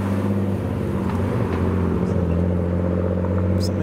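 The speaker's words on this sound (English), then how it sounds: "we've got a Mark II MX-5 pulling in." A Mark II Mazda MX-5 pulls in at a car show, its engine a steady, low rumbling idle with a mild whir, close and continuous with no clear revving.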